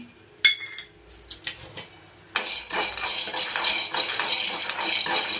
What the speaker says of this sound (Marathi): आता याच कढईमध्ये शेंगदाणे भाजून घेऊया.